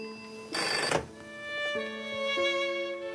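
A telephone bell rings on election night for a concession call, a single loud burst of ringing standing out briefly over quiet background tones.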